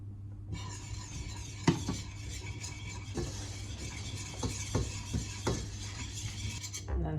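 Flour is stirred into melted butter in a small pan to cook a roux, producing a soft steady sizzle with scattered scraping and clinking strokes of a whisk or spoon over a low background hum, nearby and without speech.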